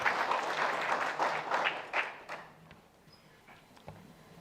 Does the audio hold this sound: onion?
no